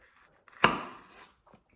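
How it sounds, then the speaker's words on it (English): A knife chops pepper strips, landing as a single sharp close knock on a cutting board with a short ringing tail, followed by quiet. "it is a lot easier when you chop it"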